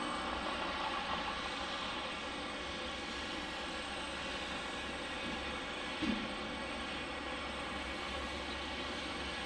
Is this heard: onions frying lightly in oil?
no